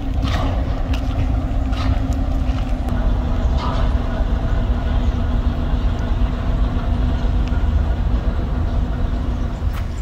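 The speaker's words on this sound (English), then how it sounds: "It's a cargo train." A cargo train rolls past, a continuous heavy rumble with a steady low drone and faint clattering, loud and unbroken throughout with no talking.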